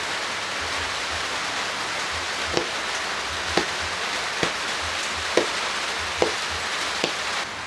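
Heavy rain falls steadily on a flooded, muddy mini farm in a dense constant hiss, broken by a handful of sharp knocks or thuds spaced about a second apart.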